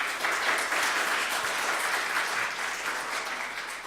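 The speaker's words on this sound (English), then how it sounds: "A big round of applause for Eli Holderness." Steady audience applause for a speaker at a December tech meet-up, a dense even wash of many hands clapping that holds for about four seconds and tapers slightly near the end.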